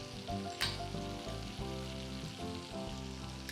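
Finely chopped garlic sizzles in melted butter for butter garlic prawn fried rice, a steady close frying crackle with a brief clatter of a spoon or pan near the start.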